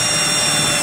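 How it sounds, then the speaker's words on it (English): A power drill bores a mounting hole for a relay beside an amp fuse on a Hyundai, a loud, steady, high whirring drone held for under a second. "Jake is over here trying to drill a spot for our relay to go"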